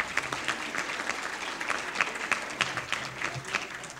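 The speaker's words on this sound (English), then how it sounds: "So if you will you give the chef a little applause?" Audience applause for the caterer chef at a dinner event, steady dense clapping from a seated crowd throughout, moderately loud with no voices on top.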